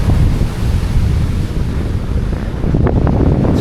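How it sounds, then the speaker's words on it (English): Choppy sea waves wash against the shore while strong wind buffets the microphone, producing a loud, continuous rumbling roar with a brief surge of surf near the end. "I don't know how much the camera can pick up of the sea here,"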